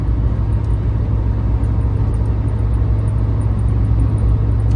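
A car cruises along a highway at steady speed, about to pass a Peterbilt truck. There is a constant low road rumble and engine drone, loud and close, and no voices.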